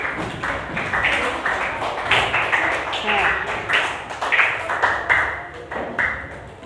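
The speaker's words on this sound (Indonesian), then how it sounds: "Aplaus untuk kelompok 1." Group applause in a classroom presentation session, steady overlapping claps sustained for several seconds, fairly close with voices mixed in.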